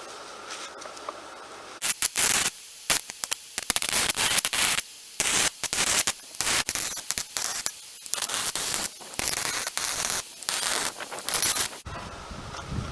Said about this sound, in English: So let's weld this little riser on here.